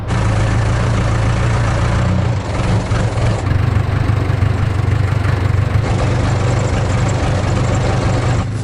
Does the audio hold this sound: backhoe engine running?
yes